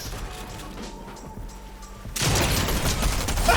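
Gunfire in a 1v1 video game fight, a quieter stretch of scattered shots and mechanical clatter giving way after two seconds to a loud, dense burst of rapid fire that continues to the end.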